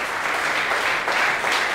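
A church congregation claps together at a Sunday worship service, a steady wash of applause of moderate loudness for a couple of seconds, with no voice over it.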